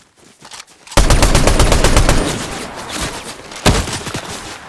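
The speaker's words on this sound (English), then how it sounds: "Someone's shooting me" Loud, close automatic gunfire in Fortnite comes in a sharp rapid burst lasting nearly two seconds, then tails off, with another short volley following.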